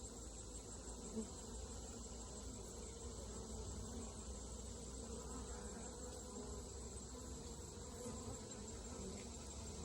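A dense, continuous buzzing of many worker honey bees at an open hive during inspection, close by, steady and droning throughout with no voices.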